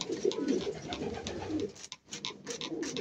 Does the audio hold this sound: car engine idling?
no